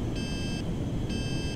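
Stall and low-airspeed warning in Grand Theft Auto V aircraft: two evenly spaced electronic beeps ring over a steady engine drone, with no one speaking during them.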